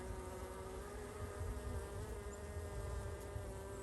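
Honeybees at a hive, a steady, faint buzzing drone of many insects close by, continuous without pause.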